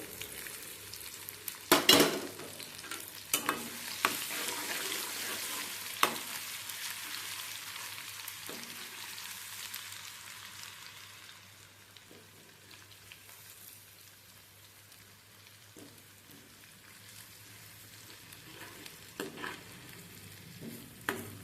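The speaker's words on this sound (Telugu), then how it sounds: "అల్లం వెల్లుల్లి పచ్చి వాసన పోయేదాకా వేయించుకుంటే చాలు." Ginger garlic paste fries in hot oil in a pan for paneer butter masala, a soft continuous sizzle with scattered stirring scrapes and taps, fairly quiet and close, with no talking.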